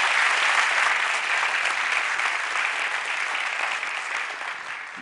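Steady, sustained audience applause at a Jorge Drexler concert, dense and even for the whole stretch, slowly tapering near the end with no talk over it.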